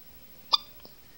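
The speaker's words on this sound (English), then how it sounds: "Baby girl, you got the hiccups?" A single soft hiccup from a newborn baby girl, close and quiet, followed by a fainter second catch a moment later in a still room.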